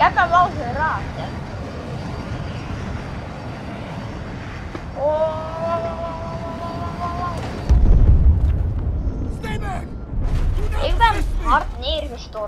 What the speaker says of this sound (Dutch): Maar misschien kan ik nog wel die helikopter opblazen.